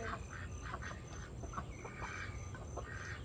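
Pet ducks quack repeatedly in short, excited bursts while being fed garden produce, several birds calling close by over a faint outdoor background.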